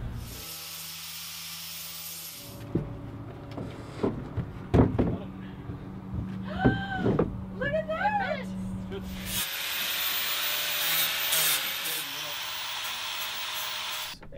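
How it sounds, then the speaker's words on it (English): A wooden nesting dinghy is scraped down by hand at a waterfront, with short rasping strokes and knocks amid hissy background noise and some squeaky tonal sounds in the middle. "Scrape this down, I guess."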